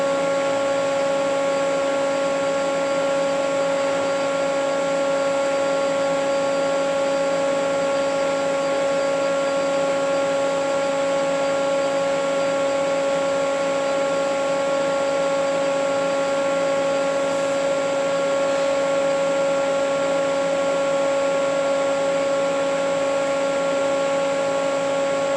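Refrigerant recovery machine drawing refrigerant out of a vehicle's air-conditioning system, a steady, continuous motor drone with a pronounced tonal hum that holds unchanged throughout.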